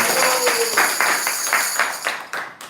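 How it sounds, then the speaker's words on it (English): Applause from a small audience at a devotional kirtan gathering, a run of rhythmic, fairly close claps lasting a couple of seconds. "Have a round of applause for him."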